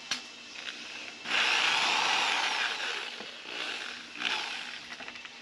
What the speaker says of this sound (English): when I start drilling right at the base of his green collar